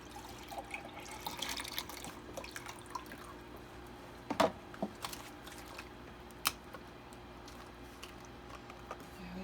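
Chicken broth is poured into a measuring cup in a home kitchen, making a soft, low trickle and a few faint drips and clinks, fairly quiet and steady.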